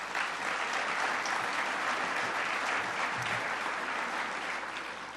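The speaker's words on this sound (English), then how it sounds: "Let's give him a round of applause" Audience applauding a priest at a state governor's ceremony honoring first responders and community heroes; sustained, even, fairly distant clapping from a large crowd with no speech.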